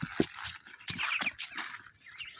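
Chicks and ducklings on a farm pecking at feed, with close busy peeping and small chirps, soft pecking taps, and rustling in a quick uneven patter.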